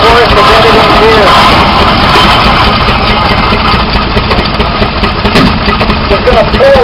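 An old tractor engine idles loudly and close at a harvest reunion festival, a continuous rough mechanical rumble that holds steady from start to end, with voices faintly audible over it.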